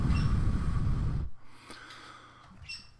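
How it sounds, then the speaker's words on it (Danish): Breath blown into a microphone fitted with a pop filter, giving a loud, low rumbling whoosh for over a second, then quiet with faint soft breaths. "så prøver jeg at puste i mikrofonen nu med popfilter"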